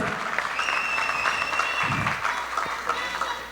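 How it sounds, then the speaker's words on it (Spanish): Audience at a popular plurinational assembly breaks into steady applause, a dense patter of clapping hands that carries on throughout at moderate distance. "le invito a un fuerte aplauso"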